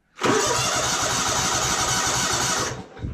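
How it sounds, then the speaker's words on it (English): A John Deere GT245 lawn tractor engine cranks from cold without choke, giving a loud, rhythmic cranking sound close by for about two and a half seconds that stops without the engine catching. "So let me give you all a little cold start here."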